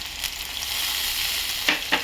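Frying ginger with chilies in a pan hisses in a steady, loud sizzle, broken near the end by two quick sharp bursts of spitting as a little water hits the hot oil.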